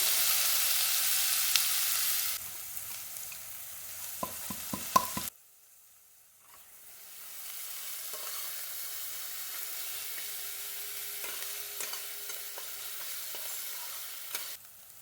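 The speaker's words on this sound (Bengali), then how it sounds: "তেলটা গরম হয়ে গেছে এরপরে আমি পেঁয়াজগুলো দিয়ে দেবো সবটাই দিয়ে দিলাম" Onions drop into hot oil in a pan: a loud hiss at the start gives way to a quieter sizzle with stirring scrapes and clinks, then a steady frying crackle builds again.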